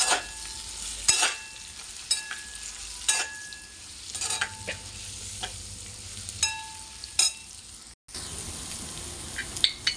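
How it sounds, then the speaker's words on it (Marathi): Sweet potato fries with chilli and peanuts in a pan, a constant sizzle punctuated by repeated scraping, clattering stirs about every second or two, close and fairly loud. "आता आपण याच्यात रताळे किंवा साकरू ते टाकणार आहोत आणि छान असं हलवून घेणार आहोत।"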